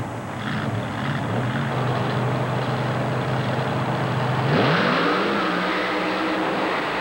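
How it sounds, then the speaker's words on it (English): An early-model five-window Ford coupe with a Chevrolet engine, at a drag-racing event, holds a loud, steady engine drone before it roars and revs up sharply as it launches off the line, with no voices. "Another 5-window early model Ford coupe, this one again with Chevrolet motivation."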